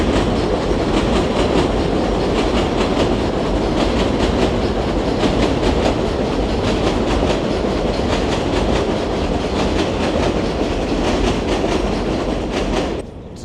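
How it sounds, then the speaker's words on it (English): A New York City 7 subway train rumbles past continuously and loudly on an elevated track, with steady clattering wheels throughout, fading slightly at the very end. "Here goes the 7 train, it's gonna pass over here."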